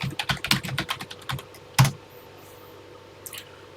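Keys clatter on a TI-99/4A home computer keyboard as a program is entered, a quick irregular run of close, crisp clicks and thumps, then a heavier keystroke and a few sparse taps trailing into quiet.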